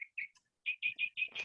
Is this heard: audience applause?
no